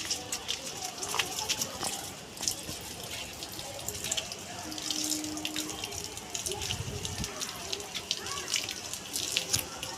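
Water pours and splashes continuously while plants are watered in a rooftop garden, a close, steady trickling with people talking over it.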